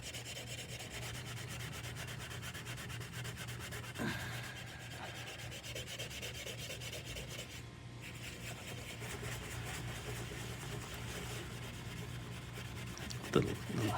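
Rubbing compound is worked by hand over a 1975 Chevrolet Corvette's paint. The continuous close-up scrubbing holds steady, with a low background hum and a sharp tap near the end.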